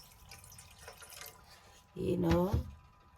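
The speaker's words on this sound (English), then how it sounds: "I'm just gonna put some water there" Water is poured into a pan of sugar to make jalebi syrup, giving a short splashing gush after faint background clatter and a few light drips.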